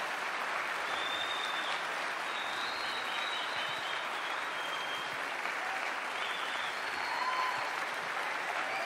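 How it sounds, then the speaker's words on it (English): A large audience gives a speaker a warm welcome with sustained applause and a few scattered whistles, a dense, even roar of clapping that holds steady without pause. "Please, will you give him a really great round of applause."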